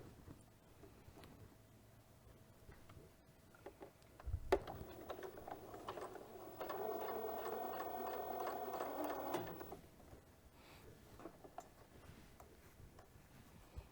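A sewing machine stitches fabric for a DIY face mask in one steady run of a few seconds, a close, even whirring rattle that starts after a sharp click and stops cleanly.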